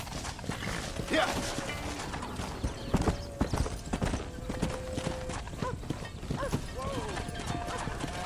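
Horse hooves pound rhythmically at a gallop in the Red Dead Redemption video game, with quick clip-clop beats, occasional whinnies and voices calling out over the running herd.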